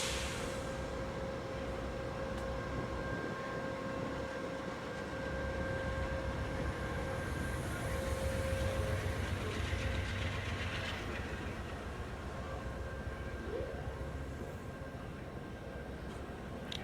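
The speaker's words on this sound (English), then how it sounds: "What they're going to do is move the train forward a little bit" The Amtrak Lake Shore Limited creeps forward at the Buffalo station, a low continuous rumble with faint metallic whine and a gentle swell in the middle, fairly quiet and distant.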